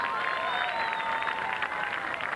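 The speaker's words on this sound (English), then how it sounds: "let's have a warm round of applause for your 2003 ECAC champion" A crowd at a college lacrosse championship gives steady applause for the Georgetown Hoyas, a soft, distant, even patter of many hands with a tone or whistle drifting over it.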